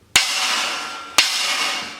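A stacked pair of dark cymbals, a broken Sabian AA over a small Istanbul Alchemy, struck twice about a second apart, each hit a sharp trashy crash with a bright washy decay, close and alone.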